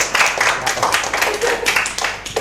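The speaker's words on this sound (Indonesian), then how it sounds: "Oke, tepuk tangan untuk." A small group in a microteaching classroom claps in short, uneven bursts, close and a little ragged, the rhythm rising and dipping over a couple of seconds.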